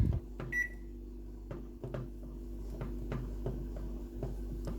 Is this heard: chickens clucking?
no